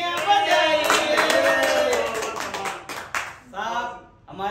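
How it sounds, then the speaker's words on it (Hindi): Audience clapping at a Holi poetry gathering (kavi sammelan), scattered hand claps running steadily under a singing or speaking voice that carries through most of the stretch. "तालियां बजाई।"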